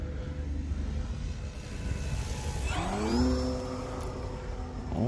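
An FMS Pitts V2 1400mm electric RC airplane running on a 4000 mAh battery whines past in flight, its motor pitch sweeping up then down as it passes against steady outdoor background noise.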